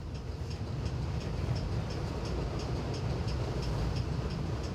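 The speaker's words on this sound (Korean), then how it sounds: "기차는 마주치는 산과 강을 돌아 천천히 달려간다" A train runs slowly along the winding Gyeongjeon railway line with a steady rolling rumble and a regular clickety-clack of wheels on rail joints, continuous and fairly loud, with no voices.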